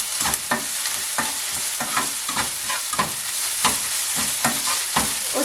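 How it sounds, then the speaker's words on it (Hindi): Ginger garlic paste sizzles and fries in a pan while a utensil stirs it in quick, irregular scrapes. The sizzle stays loud and close under steady, repeated stirring strokes. "अब हम थोड़ा सा अदरक लहसुन का पेस्ट डालेंगे। अब इसको भी थोड़ा सा हम भून लेंगे।"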